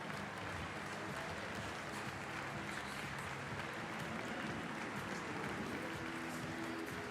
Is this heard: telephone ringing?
no